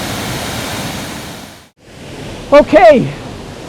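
Steady broadband rush of water at the bottom of a waterfall in the countryside, loud and continuous apart from a brief cutout, with someone speaking briefly near the end.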